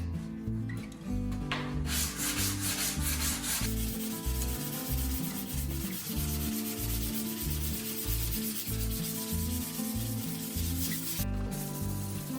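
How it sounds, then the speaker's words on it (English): Sandpaper rubs by hand over the steel roof of a Chevrolet C10 show truck during dent straightening, a close, loud, rhythmic scraping in quick back-and-forth strokes with a few brief pauses. "then we'll sand it down a little bit more before we put filler on it"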